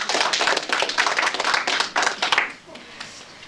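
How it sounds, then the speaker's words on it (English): A round of applause for a Cub Scout at a ward Cub Scout award ceremony: dense, steady clapping from a small indoor crowd for about two and a half seconds, then fading out. "we'll give you a round of applause"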